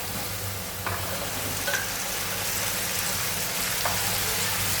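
Ivy gourd and potato pieces hit spices already fried in a pan, settling into an even, rain-like sizzle with a few light knocks of stirring, close and steady throughout.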